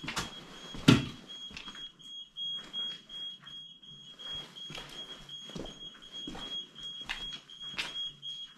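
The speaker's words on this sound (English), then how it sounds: "What kind of alarm is that?" An unidentified alarm in an abandoned hospital at midnight gives a steady, high-pitched tone that runs through the whole clip, with faint footsteps and knocks nearby and a sharp bang near the start.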